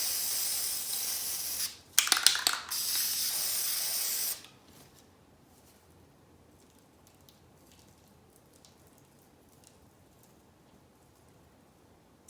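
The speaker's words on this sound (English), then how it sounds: "just spraying out the middle so that it'll have a really nice depth of color" Aerosol spray paint hisses over leaves for a homemade fall-tree decoration. One loud, close burst of hissing lasts about two seconds, then stops, leaving near silence.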